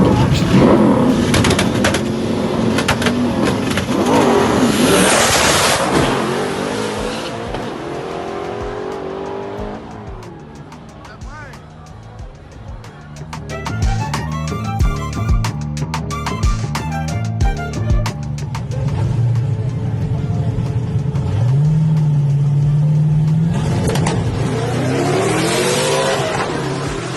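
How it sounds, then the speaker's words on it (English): A 1700-horsepower twin-turbo Audi drag racing down a sticky strip: loud, sustained engine roar with revving, shifting pitch and tire squeal, with a voice talking over parts of it. "Second round, I got this 1700 horsepower twin turbo Audi."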